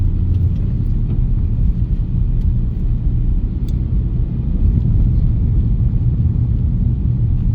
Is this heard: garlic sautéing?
no